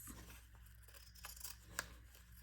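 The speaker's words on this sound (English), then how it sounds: "I just take my scissors and come along the edge here and trim the excess" Scissors trim the excess off the edge of a paper strip for a junk journal, giving faint close snips and a light papery rustle against a quiet room.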